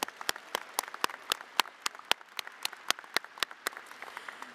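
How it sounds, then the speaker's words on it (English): Audience applause in a community college performing arts center, a steady stream of sharp, fairly close claps from a modest crowd with no voices. "Give yourself a round of applause."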